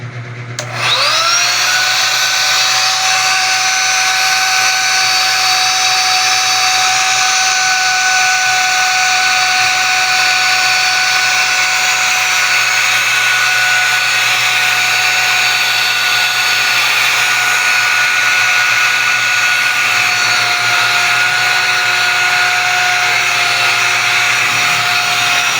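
A 150-watt electric blower switches on abruptly and runs at a steady, loud high-pitched whine with a constant hum underneath, continuing unchanged throughout.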